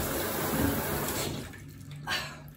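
Water splashes and runs continuously close by while a dog is bathed. There is a brief surge of spray near the end, and no speech.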